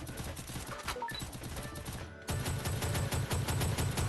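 Rapid automatic gunfire in the mobile battle game Free Fire, a dense continuous stream of shots that grows louder halfway through and keeps going steadily to the end.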